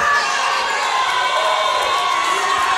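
Nashville wrestling crowd cheering and shouting for Miss Rachel's entrance, a steady dense roar of many voices that holds loud and continuous throughout.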